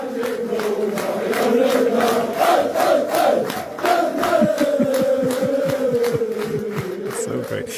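A large Arsenal football crowd in the stadium singing a chant together, a loud, sustained mass of voices with a steady melodic line and rhythmic pulses, filling the space throughout.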